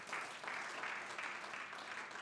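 A church congregation claps together during a Sunday service, a short burst of moderate, even applause that swells in gentle waves with no voices over it.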